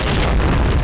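A grenade detonates in the online shooter Point Blank, a loud, close boom with a dense low rumble that fills the whole short moment without fading.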